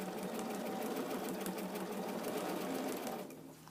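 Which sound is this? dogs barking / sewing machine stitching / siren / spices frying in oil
sewing machine stitching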